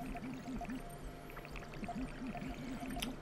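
Water pours and sloshes in the Puddle video game on Xbox Live Arcade, a quiet liquid trickle with soft squishy blips and a repeating tonal pattern from the game, no talking.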